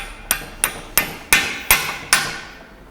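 Six sharp hammer taps, evenly spaced and close, knocking motorcycle rear shock parts into place, each strike ringing briefly before the next; no one talks.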